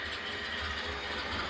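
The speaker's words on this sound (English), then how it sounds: "So I'm going to run this train around the layout for a little bit while I do my update." Model railroad train circling an East Deerfield Yard layout, a steady continuous mechanical rumble with wheel clatter, moderately close and unbroken throughout, no talking.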